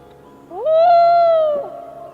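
A common loon call: one smooth, rising then sustained tonal wail lasting about a second, loud and clear with a falling tail, heard alone.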